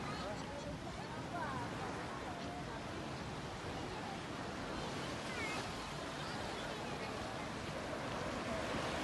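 Sea waves wash onto the hotel beach at Rixos Beldibi, Turkey, in August, a steady broadband surf wash with wind noise filling the whole span at an even, moderate level, no talk heard.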